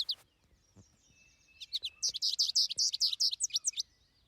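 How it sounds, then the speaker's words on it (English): A bird call plays from a birdwatching app, a quick series of high, sharp chirps building into a rapid, clear burst that lasts a couple of seconds over quiet background. "You can also play its sounds."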